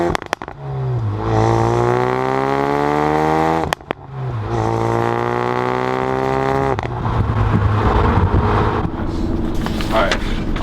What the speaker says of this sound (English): When it's in sport mode, it'll pop every time I let off the gas and every time I shift.